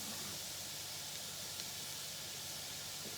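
Smoked sausage sizzles in a hot pot of Camellia red beans, a steady, faint hiss of frying with no break, and nobody talking.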